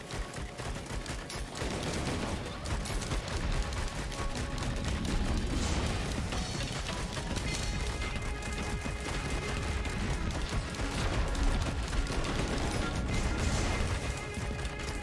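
Video game gunfire in Risk of Rain 2, rapid bursts of shots and impacts layered over game music and effects, dense and continuous at moderate level.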